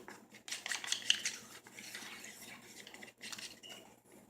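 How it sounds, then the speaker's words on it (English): Egg being scrambled in a pan for a breakfast sandwich, with metal utensil scrapes and taps against the pan in irregular bursts, fairly quiet and close, with no talking. "And I'm gonna throw in that egg. One last little scramble."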